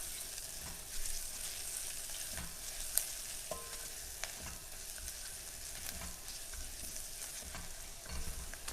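Garlic frying in a pan alongside other ingredients gives a soft steady sizzle, with occasional light scrapes and clinks of stirring, fairly quiet and close.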